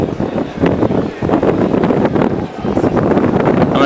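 Blustery wind on an overcast day by London's South Bank, loud gusty buffeting across the microphone, continuous and close, with rumbling surges.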